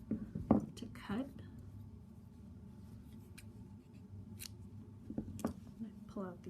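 Scissors snip a crochet yarn tail close by, giving a few short, faint cuts over quiet room tone, with soft whispery handling sounds between them.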